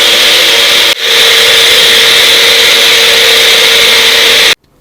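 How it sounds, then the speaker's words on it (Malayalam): Whipping cream is beaten in an electric kitchen mixer for ice cream, a loud continuous high whir with a momentary dip near the start, then cutting off abruptly at the end. "നമ്മുടെ വിപ്പിംഗ് ക്രീമും നല്ലോണം മിക്സിയിൽ ബീറ്റ് ആയിട്ടുണ്ട്"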